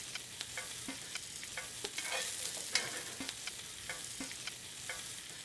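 Ingredients in a hot dry pan, with no butter or oil, sizzle steadily with crackling pops and soft stirring scrapes, close and moderately loud, with no talking.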